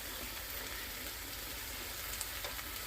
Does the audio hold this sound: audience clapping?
no